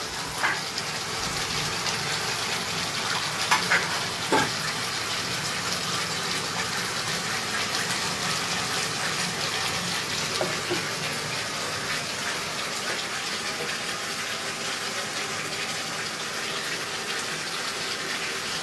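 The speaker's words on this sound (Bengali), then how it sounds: "এই 1 কাপ মতন জল দিলাম।" About a cup of water is poured into a pan of kofta curry to make the gravy, giving a steady, even gushing hiss that runs throughout with no talking.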